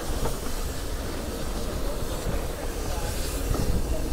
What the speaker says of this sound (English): So now departing is 6103, the Flying Scotsman.